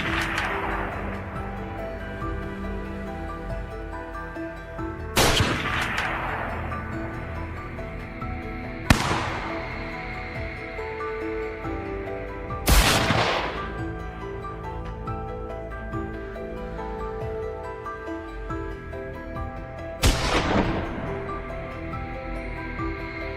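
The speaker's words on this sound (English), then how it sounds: "A series of shots rang out." Five sharp gunshots during a wild boar hunt ring out one at a time, several seconds apart, each a loud crack with a brief echo, over a constant tonal musical background.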